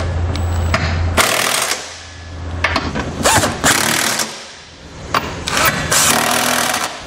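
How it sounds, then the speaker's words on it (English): An 18 millimeter socket tightens the bolts on a Draw-Tite Max-Frame trailer hitch receiver, giving close, loud bursts of rapid mechanical rattling separated by brief pauses. "we're going to use an 18 millimeter socket to tighten down all of our hardware"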